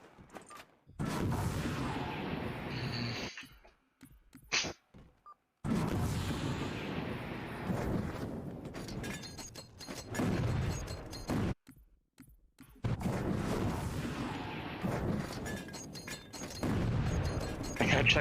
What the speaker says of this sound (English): Yeah, grenades aren't doing damage.